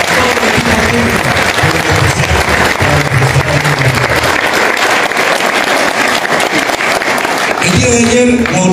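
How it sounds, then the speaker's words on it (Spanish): A hall audience at a university meeting applauds the technical team with loud, continuous clapping that fills the room, then a brief voice and feedback-like tone cut in near the end. "Yo quiero pedir un aplauso para todo el equipo técnico."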